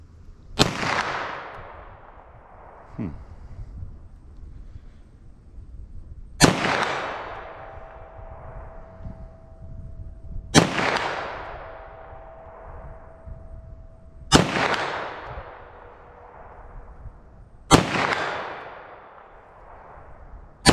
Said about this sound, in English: So I'm going to shoot from 75 yards with our 9mm here.